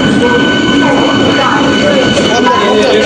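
A passenger train pulls into a station in India, making a loud, steady rumble of wheels on rails with a sustained metallic squeal close by.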